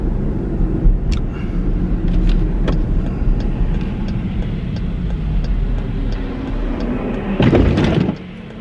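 A truck drives along a snowy road amid continuous traffic rumble, then surges past up close in a loud, slushy whoosh near the end before fading.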